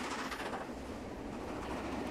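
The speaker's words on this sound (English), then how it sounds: "the steam engine working hard on the steep grades" Fellsman steam train running on steep grades, a steady rumble of carriages with rhythmic wheel clatter on the rails, heard from on board at moderate distance, faint and continuous without voices.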